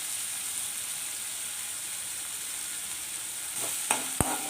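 Chopped tomatoes sautéing in a hot pan: a steady sizzle runs throughout, with a couple of sharp scraping and clinking stirring strokes near the end, close and without talk.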